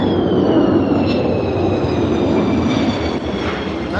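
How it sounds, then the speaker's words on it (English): Aircraft circling an airfield circuit and doing go-arounds, heard as a loud, continuous engine roar with a rising whine held steadily throughout, with no voices. "So where they're doing go-arounds like they're doing now, I'm counting 6."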